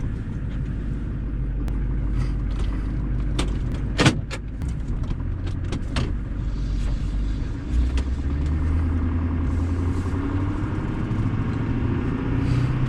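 A 2003 Duramax diesel pickup rumbles with a low, steady idle and drive drone, close by, with a few sharp clicks and knocks from the door or cab mixed in and no talk.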